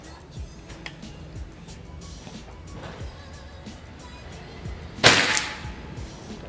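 An Escobar AI PCP air rifle fires its fourth shot in a long-range accuracy test: one sharp, fairly close crack stands out from quiet outdoor background.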